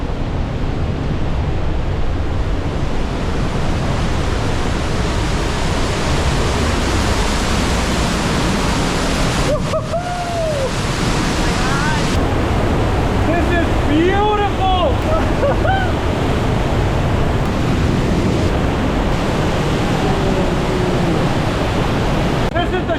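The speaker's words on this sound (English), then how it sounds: "This is just the Lower Falls and it is damn beautiful." Johnston Canyon's Lower Falls pour loudly and continuously through the rocky canyon, a dense close roar of rushing water that fills the scene, with a few faint voices and chirps barely rising above it.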